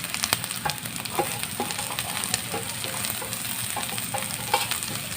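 Ginger, onion and green chillies sauté in a pan for a ginger theeyal, a close steady sizzle broken by repeated scraping stirs and light clinks.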